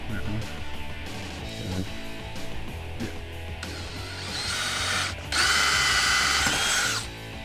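Power drill with a 1/4 inch bit boring out the centers of plastic panel clips while fitting a front bumper on a Jeep Wrangler JK, starting in short bursts and then running longer and louder near the end, over a noisy background.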